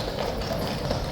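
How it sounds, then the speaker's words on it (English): Horses' hooves clip-clop steadily as Household Cavalry troopers ride out behind a corporal of horse, a continuous moderate clatter over outdoor ambience. "here come those blues horses"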